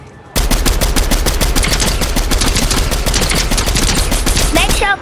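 Rapid automatic gunfire in Fortnite, a loud, sustained string of closely spaced shots that starts abruptly and hammers on continuously, with a brief chirping effect near the end.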